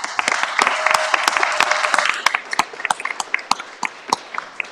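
A small group of people at a health council event claps, with sharp, scattered hand claps and a faint tone early on, the clapping growing sparser and more irregular as it goes.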